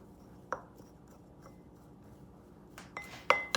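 A spoon clinks and scrapes against a bowl while chimichurri ingredients, including chopped garlic, are stirred together; a few sparse, sharp taps stand out near the start and end against a quiet background.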